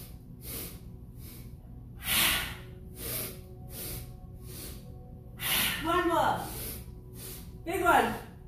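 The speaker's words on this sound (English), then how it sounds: "So we'll do inhale, inhale, inhale, exhale." Yoga-style breathing exercise: a series of short, sharp staggered inhales through the nose followed by longer audible exhales, close and breathy, with no talking.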